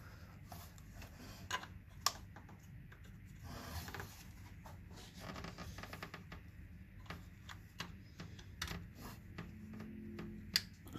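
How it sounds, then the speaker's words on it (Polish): A plug clicks onto the alternator voltage regulator of a Toyota 1.4 D4D diesel during an alternator replacement. Several short, sharp clicks and small knocks stand out over a quiet, low workshop hum. "kliknięcie słychać"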